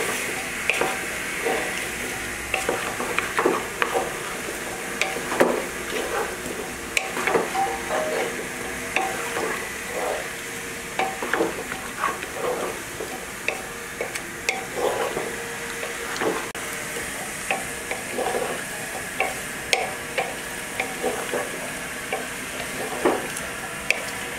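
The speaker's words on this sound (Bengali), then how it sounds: "সবগুলো উপকরণ আমি একটু মিশিয়ে নেব, নিয়ে আমি ভুড়িটা একটু কষিয়ে নেব" Beef tripe cooked with onions and spices, stirred and fried in a pan, for an Eid dish: a steady low sizzle broken by frequent scraping clicks and knocks of a spatula against the pan, close by, with no talk.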